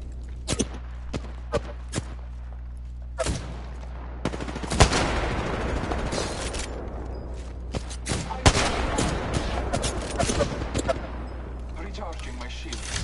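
Gunfire in a video game, scattered single shots at first, then a dense stretch of rapid automatic bursts over a steady low hum, with occasional game voice lines.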